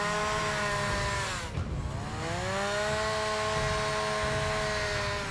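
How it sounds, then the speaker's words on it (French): A chainsaw runs steadily at a loud, close-up level as it starts on a block of wood for carving. The engine briefly dips and then rises again, with its harmonic whine sliding upward as it revs back up. No one speaks. "Je mets ma tronçonneuse en marche et j'observe ce qui se passe."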